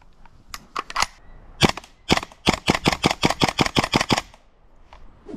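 An airsoft gun fires a rapid string of shots at about six rounds per second, sharp close cracks in a quick even burst after a few scattered single shots, then quiet.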